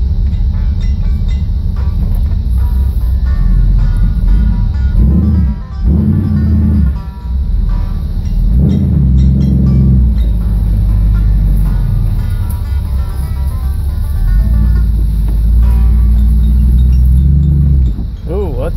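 A car with a 327 V8 and Powerglide transmission runs with a loud, steady low rumble throughout, with a few brief dips and people talking nearby.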